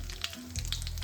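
Onion and garlic frying in hot oil with whole cumin, dried red chillies and bay leaves, a steady close sizzle with a few brief clinks and scrapes over one second.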